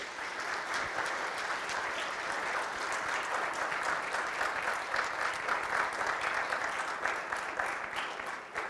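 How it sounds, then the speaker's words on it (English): An evening business lecture audience of students, faculty and community members gives the speaker a round of applause, steady dense clapping carrying on evenly for about eight seconds. "Let's give Blair another round of applause."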